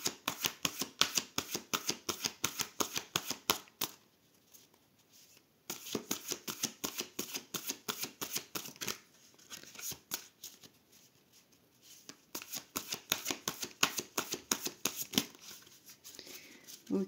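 A deck of tarot cards is shuffled and cut, giving rapid, close, crisp riffling flutters in repeated bursts with brief pauses between them.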